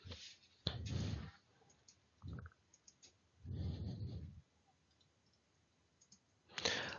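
Computer mouse clicks sound while working in Dynamics 365 software, a few sharp clicks scattered between soft handling rustles, close and quiet.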